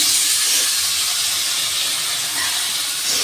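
Small lote fish, rubbed with salt and turmeric, hit a pan of hot cooked-down spice paste and sizzle in a steady, loud, even hiss that holds for the whole stretch.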